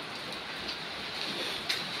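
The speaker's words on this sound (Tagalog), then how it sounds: "Umuulan nga oh" Steady rain falls outdoors in the Philippines where birds are being released, a continuous soft hiss of drops with a few slightly louder patters, no talk.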